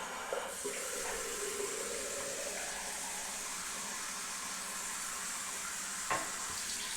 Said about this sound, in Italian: Facciamo uscire un po' l'acqua calda